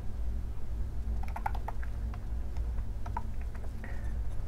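Code is typed on a computer keyboard, giving light, scattered key clicks in small clusters over a steady low electrical hum.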